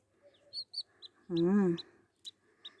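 A brooding hen that has just hatched a clutch of thirteen chicks gives one drawn-out cluck, loud and close, amid soft peeping chicks and scattered short chirps.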